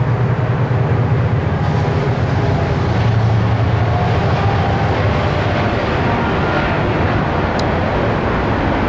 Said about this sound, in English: Comes the Kansas City Southern Railroad